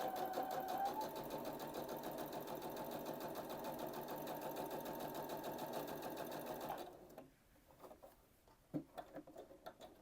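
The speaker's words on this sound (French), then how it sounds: "On va mettre la longueur entre les points à 4 et c'est parti pour faire ce fil de fronce." Sewing machine running a long steady gathering stitch at stitch length 4 on a garment neckline, a fast even whirring patter for several seconds, then stopping, followed by a few soft handling clicks.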